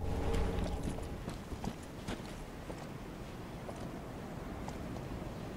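Rhythmic clip-clop of horse-like hooves walking on a hard surface in the video game Dark Souls 3, irregular steps over a low ambient rumble, no speech.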